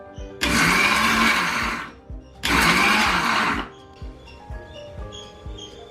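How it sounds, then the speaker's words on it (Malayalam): A kitchen grinder crushes grated coconut, cumin and curry leaves for a Kerala chicken stir fry, running in two loud whirring bursts of about three and one and a half seconds with a short pause between them, and quiet clatter follows. "ഇത് കുറച്ച് നാളികേരം ചെരണ്ടിയതും ജീരകവും കറിവേപ്പിലയും കൂടെ ചെറുതായിട്ടൊന്ന് ചതച്ചെടുക്കാം."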